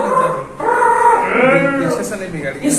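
A human voice imitates a small puppy, producing loud, close, high whimpering and whining yips in a continuous wavering stream.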